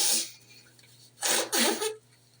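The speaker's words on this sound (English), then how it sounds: "I gotta blow my nose one more time." A brief snort of breath, then two forceful, wet nasal blasts close by, like someone blowing their nose into a tissue.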